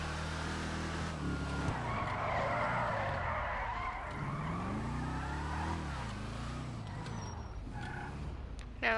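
In a racing video game, a fast car drifts with sustained tire skidding and squealing over a rising and falling engine drone, heard loud and continuous throughout.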